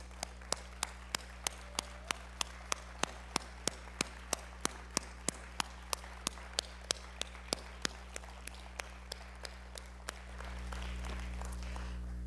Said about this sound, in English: And I will lead with the applause.